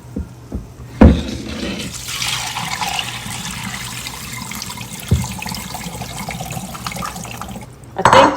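Water running and splashing while soaked beans are rinsed for koose, a continuous trickle and pour with a few knocks and a louder gush at the end, close by.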